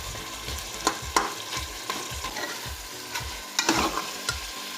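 Beef keema with tomatoes and garam masala being stirred and fried in a pan, with steady sizzling and repeated scraping spoon strokes that stand out now and then, close and alone without any talk.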